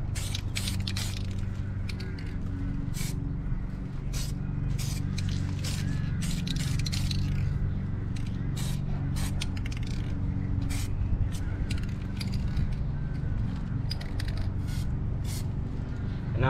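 Spray paint hisses in repeated short bursts as a thicker coat goes onto brake calipers, close and fairly quiet, with clicks and rattles of the can between sprays.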